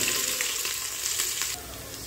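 Shallots hit hot beef fat in a pan, giving a loud, close, crackling sizzle that eases slightly near the end.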